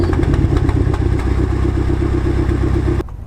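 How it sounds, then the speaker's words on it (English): A BMW M6 engine runs at a loud, steady idle with a rhythmic mechanical pulse and clatter, then cuts off abruptly near the end. "let's start the engine"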